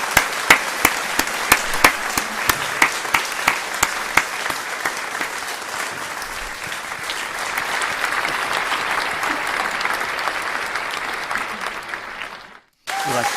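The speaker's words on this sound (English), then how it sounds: "We like the clapping." An audience at a live music stream claps in sharp, steady beats that swell into dense, sustained applause, then cut off briefly near the end.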